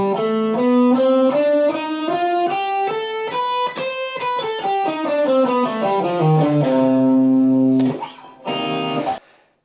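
A C melodic minor scale on electric guitar with a driven, effects-processed tone, notes climbing steadily then descending back down, ending on a sustained low root and a short strummed flourish.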